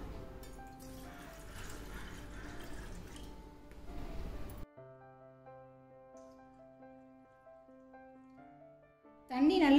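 Water pours into a pot on the stove for a herbal kashayam, a steady splashing rush lasting several seconds before it stops and soft music takes over.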